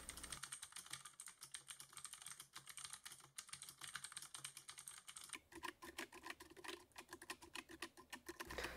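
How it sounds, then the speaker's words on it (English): Fast, steady typing with dense clicking keystrokes, alone and close; the tone and rhythm shift partway through as typing on a QWERTY keyboard changes to a stenotype machine. "Take a look at me typing in QWERTY and COMAC"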